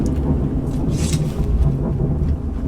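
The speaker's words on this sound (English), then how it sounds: "That's why I'm hearing the storm." Deep rolling thunder and steady rain of a storm heard from inside a cave in Skyrim, a low continuous rumble with a soft hiss of rainfall, no voices.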